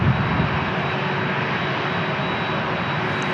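A Boeing 767 jet at San Diego International Airport gives off a steady, even engine roar from a distance, continuous and unbroken, with no voices.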